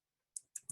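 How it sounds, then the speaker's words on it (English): A few sharp keystrokes on a computer keyboard, three distinct clicks spaced unevenly after a silent start, close and fairly quiet, with no talking. "I'm just typing that in"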